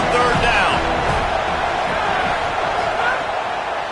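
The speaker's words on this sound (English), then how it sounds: "Decibels rising as the crowd gets behind this defense on third down." Football stadium crowd roaring louder as the defense faces a third down, a dense, sustained wall of cheering and whooping at steady high volume throughout.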